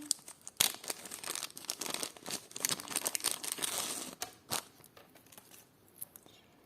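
A small plastic jewelry bag crinkles and rustles up close as it is handled, busy at first and then trailing off into sparse crackles.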